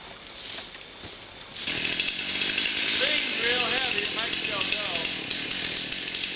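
A chainsaw starts up and runs loud and steady as it cuts firewood in swampy woods, a continuous buzzing drone that fills most of the clip, with voices talking under it.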